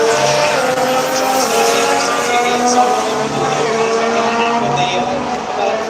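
Formula 1 race cars in a video game, a Ferrari chasing a Mercedes, with high whining engines held steady and loud while a commentator talks over them.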